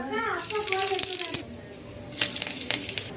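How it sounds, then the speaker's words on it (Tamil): Mustard seeds and cumin hit hot oil in a kadai with a close, crackling sizzle, while someone talks over the spattering pops. "எண்ணெய் காஞ்சதும் கடுகு சீரகம் போட்டுக்கலாம்"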